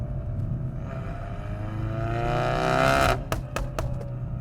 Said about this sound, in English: That exhaust is insane.